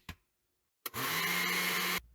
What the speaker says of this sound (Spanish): Y licuamos nuevamente.